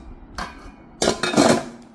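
A metal kadai and a small pressure cooker are handled, giving a brief clink followed by a louder cluster of metallic knocks and rattles, close and with no talk.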